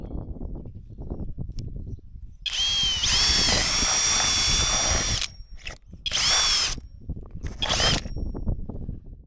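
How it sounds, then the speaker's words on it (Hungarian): A power drill bores a hole through a caravan roof in three whining bursts, a long one followed by two shorter ones, with quieter handling noises in between. "A tetőn fúrtam egy lyukat"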